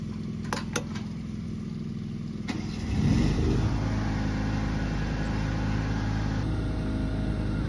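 Vehicle engines rumble steadily on an avocado farm. A few faint clicks come first, then the low engine drone grows louder and continues as a constant close hum.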